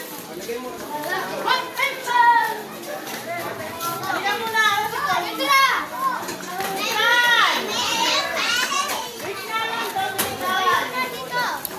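Children shout and chatter as they play at a water park resort, their excited voices overlapping in a lively, continuous din with an adult voice now and then, fairly close and loud throughout.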